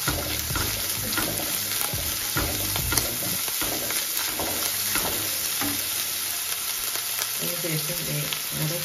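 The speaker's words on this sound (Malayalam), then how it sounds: "ഉള്ളിയൊന്ന് പെട്ടെന്ന് വഴണ്ടി വരാൻ കുറച്ച് നമുക്ക് ഉപ്പും കൂടി" Onions sautéing with salt hiss steadily in a pan, with repeated scraping stirs and light clinks of the spatula throughout, close and unbroken by talk.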